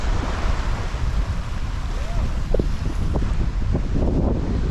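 Heavy rain pours outdoors as a dense, steady hiss that fills the whole stretch. A few faint voice fragments and small knocks sit under it.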